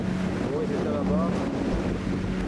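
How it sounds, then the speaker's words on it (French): Steady roar of force 7 to 8 storm wind buffeting the microphone on an Atlantic catamaran crossing, with a broad rushing wash and a faint tonal whine rising briefly midway. "Tempête, vent de force 7 à 8."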